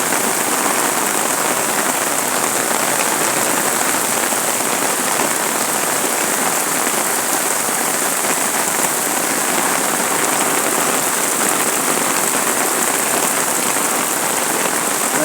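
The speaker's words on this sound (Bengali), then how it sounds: "দর্শক বৃষ্টি পড়তেছে" Heavy rain falls steadily at an aircraft museum, a dense, continuous patter on the surfaces with no break and no talk.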